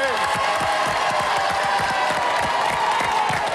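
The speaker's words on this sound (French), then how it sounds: "Quelques applaudissements pour l'équipe blanche, s'il vous plaît." Studio audience of a French game show applauding the white team, steady dense clapping with some cheering throughout, loud and continuous.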